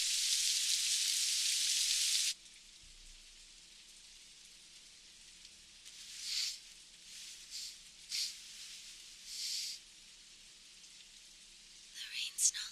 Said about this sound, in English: The rain's not letting up.